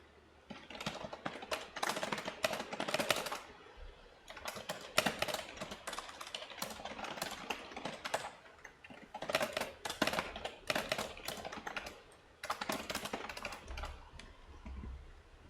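Fast, continuous typing on a computer keyboard during a competitive programming session, dense bursts of close key clatter with short pauses throughout.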